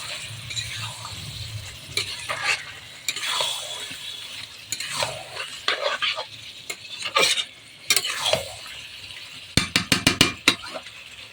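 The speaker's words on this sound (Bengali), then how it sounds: "এবার দিয়ে দেবো সেই পোস্ত বাটাটাকে যেটা যেটাকে আমি পেস্ট করে রেখেছিলাম আমি ভালো করে কষবো" Chicken sizzling in a pan as it is stirred with poppy seed paste, with scraping spoon strokes and bubbling fry noise at moderate level, ending in a quick run of rapid tapping.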